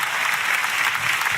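Church congregation applauding, a dense and steady burst of many hands clapping at close range with no speech over it.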